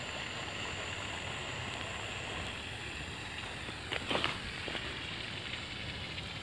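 Irrigation water from a running borewell pump flows through a pipe toward tomato rows on a farm, a faint, steady rushing wash with a brief louder splash or disturbance midway.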